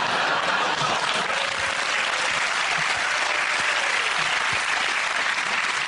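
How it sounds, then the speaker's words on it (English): A studio audience at a comedy panel show claps and applauds loudly and steadily throughout, a dense sustained wash of clapping with no voices on top. "One of the largest spontaneous and heartfelt applause we've had."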